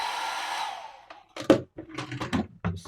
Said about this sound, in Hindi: hair dryer,